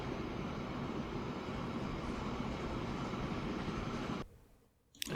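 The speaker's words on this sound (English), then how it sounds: "The train is making its way to Duluth" Train rolling along in Transport Fever 2, a steady loud broadband rumble that runs continuously before cutting out near the end.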